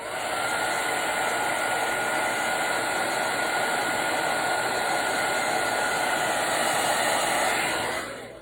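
A heat tool blows steadily to warm foil transfer gel for a craft project, a loud continuous whooshing hum with no talking that cuts off just before the end.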